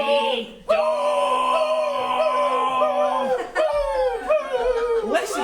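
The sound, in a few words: dog howling at singing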